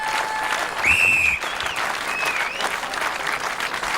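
A crowd applauding steadily at the 1998 World's Strongest Man competition, broad sustained clapping with a few whistles rising over it, moderately loud and continuous throughout.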